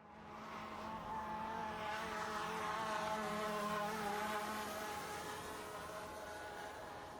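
A distant quadcopter drone passes by, its steady buzzing whine swelling gradually and then easing off, with no voices.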